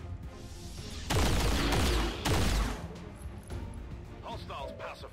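Bursts of rapid gunfire in XCOM 2 as soldiers shoot at the Lost, two loud sustained volleys with crashing impacts, followed by quieter game ambience.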